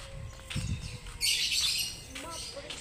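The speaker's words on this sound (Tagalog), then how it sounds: "Naririnig niyo yung huni ng mga ibon." Birds call outdoors in the morning, with short squawks and chirps at a moderate distance, along with a hiss of background noise and some nearby voices.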